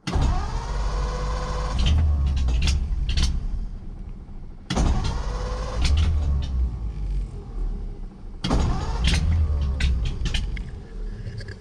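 A 1930 Ford Model A sedan cranks three times without catching. Each try is a few seconds of rhythmic, whirring starter churning, and short pauses separate the attempts.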